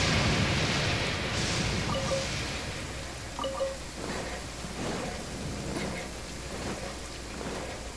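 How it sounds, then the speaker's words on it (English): Steady rain in Genshin Impact, a dense hiss of falling water with soft low rumbles underneath, even and continuous throughout with no voices. "I wonder if this rain is scripted."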